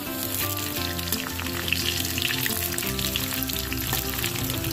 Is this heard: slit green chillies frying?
yes